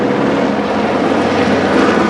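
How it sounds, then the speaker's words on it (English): A helicopter thunders steadily overhead as a broad, loud rotor and engine roar that fills the whole moment without pause, outdoors in Hollywood, with no voices over it. "Helicopter up there."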